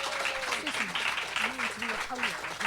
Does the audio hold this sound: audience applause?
yes